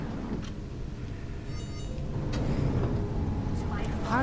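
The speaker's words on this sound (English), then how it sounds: "Can hear the harvester coming back in." A harvester ship returning to the mothership in Genesis Alpha One, a low rumbling engine drone that swells toward the end, heard beneath a voice talking.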